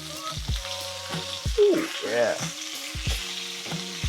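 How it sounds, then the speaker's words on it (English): Meat for pozole sizzles and crackles in a hot pan as pieces are flipped and stirred, with a close, steady frying hiss under a man's brief pleased exclamations. "Sizzling."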